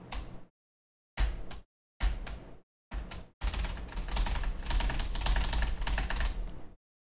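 Computer keyboard spacebar struck in separate short bursts of clacking, then a rapid continuous flurry of presses for several seconds, close and crisp with no talking.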